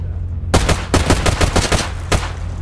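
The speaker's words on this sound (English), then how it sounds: "I'm shooting just standard FMJ because I want to save my good ammo for the actual Brain Scorcher." Rapid gunfire with standard FMJ ammunition in Stalker GAMMA, a burst of close, loud, sharp shots in quick succession, a short pause, then one or two more reports.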